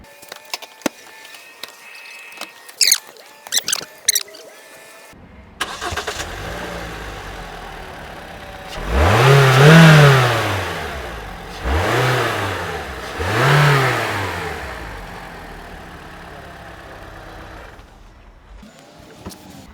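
A Honda Civic or Toyota Corolla car engine starts and revs in three strong surges, rising and falling in pitch, after a few brief clicks and knocks; loud and close.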